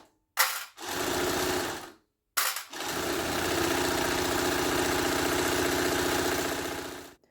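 A sewing machine topstitching on a mini topstitching table, starting with a short burst, pausing, then running fast in a long steady whir, loud and close, with no voices.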